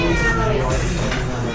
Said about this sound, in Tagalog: May pusa? May pusa.